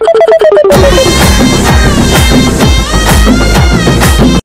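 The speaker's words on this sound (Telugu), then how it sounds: "మా లవ్వర్ ఫోన్ చేస్తున్నారు" A mobile phone ringtone plays loudly and continuously: a short run of bright melodic beeps, then a full musical tune with a steady rhythmic beat that lasts until it cuts off abruptly.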